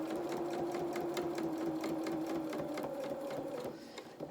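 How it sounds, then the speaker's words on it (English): A sewing machine runs at low speed, top stitching the edges of a pair of dungarees: a steady, close mechanical whir with an even needle rhythm that carries on throughout and eases off near the end. "Turn my speed down because we're top stitching"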